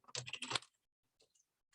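A short burst of keystrokes on a computer keyboard, a rapid cluster of close taps followed by a couple of faint isolated clicks and then quiet.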